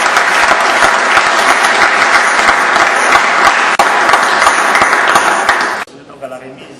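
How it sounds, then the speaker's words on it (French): An audience applauds loudly and steadily for about six seconds, a thick wash of many hands clapping, before it cuts off and a voice begins speaking. "nous vous demandons encore une fois d'applaudir pour les actes."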